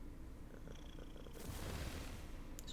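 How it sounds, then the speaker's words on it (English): A pet purrs in a fantasy action video game, a low continuous rumbling purr over game ambience, with a brighter burst of effects joining partway through. "Purr sounds."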